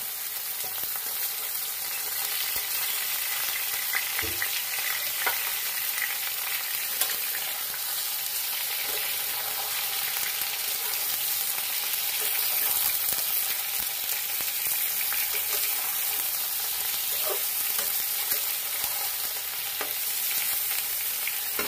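Thin long slices of eggplant fry with potatoes and onions in a pan, an unbroken bright sizzle that holds steady throughout, with faint occasional stirring knocks, near and alone without voices.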